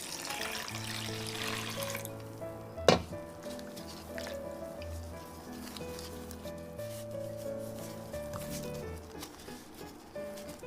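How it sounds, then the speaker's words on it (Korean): About two liters of water pour and splash for traditional Korean sikhye, a dense rushing stream for the first two seconds, then softer trickles under steady background music. "물 2리터를 부어서 엿기름이 나오지 않게 묶어줍니다"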